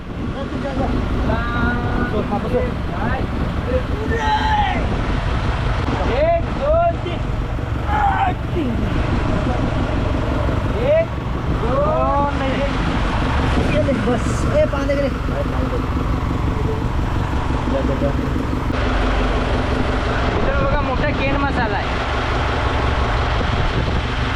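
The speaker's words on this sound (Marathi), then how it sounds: "आता आपली बोट घरी चालली आहे" A deep-sea fishing boat motors home through strong wind, its engine a loud, steady low drone with wind rumble throughout, while people talk over it.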